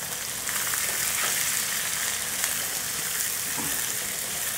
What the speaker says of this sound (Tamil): இந்த வெங்காயம் 1/2 வேக்காடு வரட்டும், அது வரைக்கும் வெயிட் பண்ணுவோம். அப்படியே பெரட்டி விட்டுக்கிட்டே இருப்போம்.